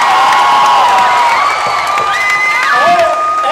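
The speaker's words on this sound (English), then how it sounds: "Give them a round of applause, by the way." Audience in the Dallas-Fort Worth area cheering loudly at a live show, with sustained whoops and high shouted voices over a crowd roar, close and energetic, with little distinct clapping.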